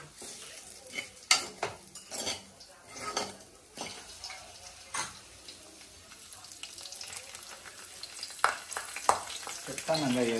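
Curry leaves and spices are tempered in hot oil, with bursts of crackling sizzle and clattering stirring against the pan, close and uneven, plus some watery splashing in between.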